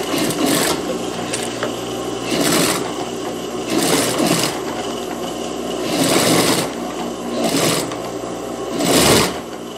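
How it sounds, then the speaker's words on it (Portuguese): A sewing machine stitches a narrow half-centimetre folded hem on a child's dress, with repeated loud bursts of rapid needle clatter separated by short pauses. "eu vou fazer aqui uma dobrinha de meio centímetro e vou passar a costura bem na"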